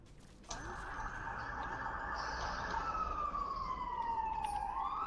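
Ambulance siren in the video game Dota 2, a loud steady wail that begins abruptly and then shifts into a falling, sweeping tone, with nothing else over it.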